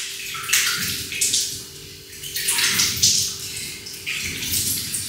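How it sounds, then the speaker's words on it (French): Water gushes from a tap in bursts as hands are washed, the splashing swelling and easing several times, loud and close with no talking. "Se nettoyer d'abord les mains."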